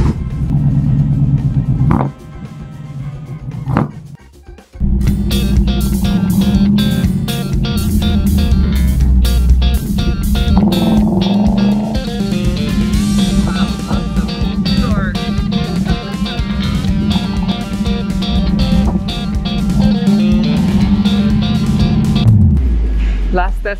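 A classic 1965 or 1966 Ford Mustang with a manual gearbox on a test drive, its engine roaring loud and steady close by after a brief dip, with a voice speaking over the steady drone.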